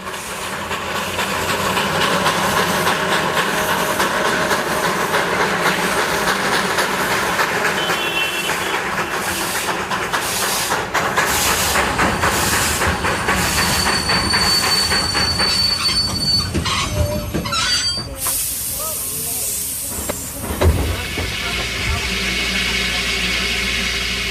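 A B-class steam locomotive on the heritage Darjeeling Himalayan Railway: continuous loud rumbling of wagons with squealing wheels and clanking metal, close up throughout, with brief high whistle-like tones near the end.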